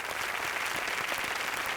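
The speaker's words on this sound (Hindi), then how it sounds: "तालियां।" A studio audience at the Indian television show Doo Duni Ke Paanch gives a short, even round of clapping, fairly soft and heard from a distance.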